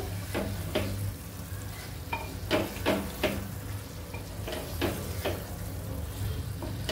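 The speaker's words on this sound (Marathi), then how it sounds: "आता त्याच्यामध्ये आपल्याला हे बॉईल अंडी घालायची" Boiled eggs being stirred and sautéed into a spicy onion-tomato masala with dried shrimp in a pan: repeated scraping stir strokes over a steady low sizzle, close up, with no talking.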